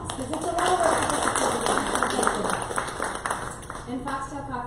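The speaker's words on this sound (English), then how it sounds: "let's give a round of applause because it's a lot of work" An audience at a meeting gives a round of applause, steady clapping from a room of people with voices talking over it throughout.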